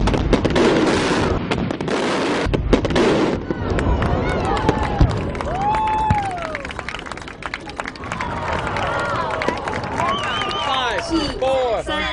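Daytime fireworks display with repeated launches and bursts, some rising whistles and crackles, sounding moderately loud amid outdoor crowd noise and voices.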